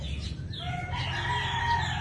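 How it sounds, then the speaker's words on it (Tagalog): Chickens cluck and a rooster crows nearby over a low steady rumble, several birds calling in short bursts. "Ligo ng mga manok, si Chak-Chak."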